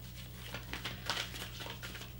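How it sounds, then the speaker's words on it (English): Tarot cards from an Everyday Witch Tarot deck shuffled in hand, a steady papery riffling and pattering that runs the whole time over a low constant hum, fairly close and moderately quiet. "just have to get some good shuffles here"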